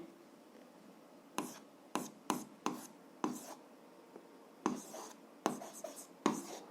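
Pen writing on paper while a seventh-grade algebra exercise is worked out: repeated short scratchy strokes in bursts with brief pauses, close and fairly quiet, with no voice.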